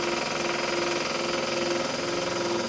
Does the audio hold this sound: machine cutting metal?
yes